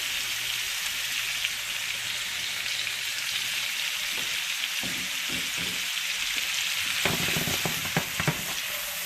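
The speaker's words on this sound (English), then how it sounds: "At this point, it's cooking, so I'm going to add about a tablespoon of butter." Butter sizzles steadily in a hot pan while shrimp linguini cooks, a dense continuous crackle with a few louder spits and stirring scrapes toward the end.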